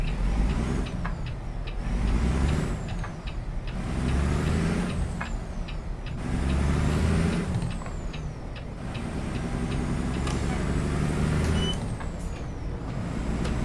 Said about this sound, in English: these Z-Mods engines really do usually run a lot quieter than most